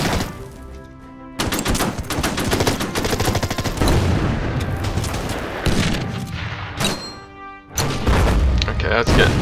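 Mortar fire in the strategy war game Order of Battle Pacific: a barrage of loud, rapid booms and blasts piles up in dense clusters, with short lulls between volleys.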